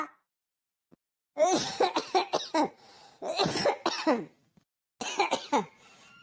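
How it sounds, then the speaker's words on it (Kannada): A person coughs repeatedly in hoarse, chesty bursts, several close together, then a pause and another fit of coughing, heard close up. "ಯಾಳಾದ ಕೆಮ್ಮು ಇವತ್ತೇನು ಕಡಿಮೆ ಆಗಲ್ಲ ನನಗೆ"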